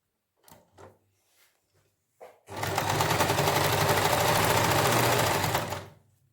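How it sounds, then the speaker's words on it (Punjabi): A sewing machine stitches the collar of a wool suit, running loud and steady for about three seconds after a few soft handling knocks and taps. "ਇਹਨੂੰ ਥੱਲੇ ਰੱਖ ਰੱਖ ਕੇ ਆਪਾਂ ਸਲਾਈ ਲਾਵਾਂਗੇ ਤਾਂ ਕਿ ਜਿਹੜਾ ਗਲਾ ਹੈ ਆਟੋਮੈਟਿਕ ਹੀ ਮਸ਼ੀਨ ਦੇ ਥੱਲੇ ਫੋਲਡ ਹੋ ਜਾਵੇ"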